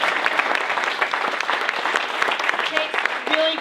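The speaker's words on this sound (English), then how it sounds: "We need to applaud that." A crowd at a Black History Month celebration breaks into steady, dense applause, many hands clapping continuously throughout with a murmur of voices underneath.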